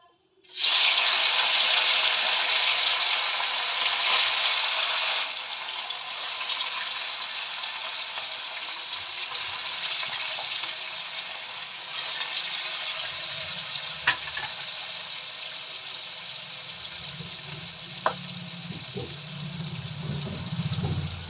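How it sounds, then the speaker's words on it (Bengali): A live katla fish rubbed with salt and turmeric hits hot oil with a loud sizzling burst, then settles into a steady, close frying hiss with occasional pops and no talking. "এবার ভাজবো মাছটাকে এই যে বন্ধুরা এখন মাছ ছাড়বো"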